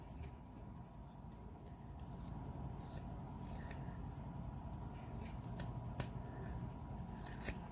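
A wood owl carving being whittled and rounded with a knife, giving faint, steady scraping and shaving strokes with a few sharper clicks, close and quiet, with no talking.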